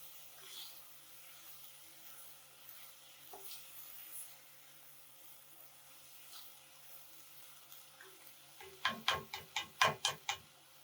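Vegetables and long grain rice for chicken dirty rice are stirred together in a pan: a faint low sizzle for most of the moment, then a quick run of about seven sharp rhythmic scrapes near the end.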